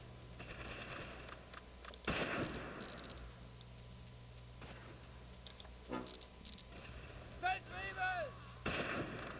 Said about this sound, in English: Oh my god, we got fire coming up from everywhere.